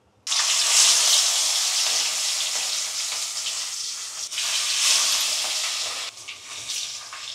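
Marinated fish pieces frying in hot oil in a pan, sending up a loud, steady sizzle that swells and dips slightly, with no talking.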